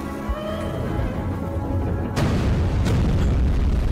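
A bomb blast in a Skibidi Toilet animation, a loud boom that erupts partway through over a rumbling animated soundscape, followed by a second sharp burst soon after.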